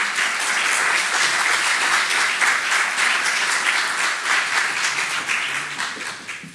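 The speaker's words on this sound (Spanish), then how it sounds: "un aplauso para Antonio." An audience at a Sierra Bentomiz conference breaks into dense, steady applause for a speaker, sustained loudly for several seconds before beginning to thin and fade at the end.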